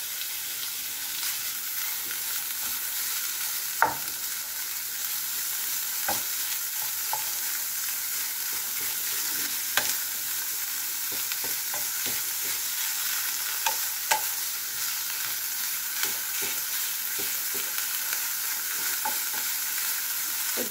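Ground beef sizzles steadily in a pan for a long stretch, with scattered scrapes and taps of a utensil as it is stirred now and then, close and even in level, no voices.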